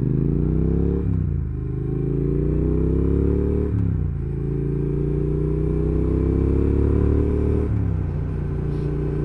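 Triumph Thruxton R motorcycle engine with a deep, steady burble, idling and gently blipped a few times, close and continuous with no talk.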